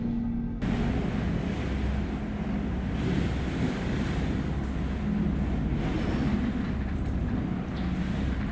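Hurricane Irma's storm-driven waves crash against a building on Big Pine Key, a steady, loud roar of surf and buffeting wind noise that fills the whole stretch without letup and with no talking.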